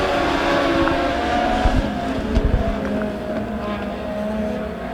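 Legend cars racing at Springfield Raceway during a Turkey Bowl heat race, a steady loud roar of several engines droning together without a break.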